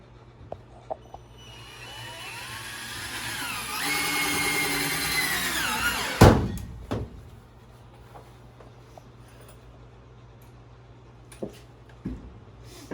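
A power drill runs steadily for a few seconds, driving a screw into wall framing, with a rising whine before a sharp knock and a few scattered taps afterward in a quiet room.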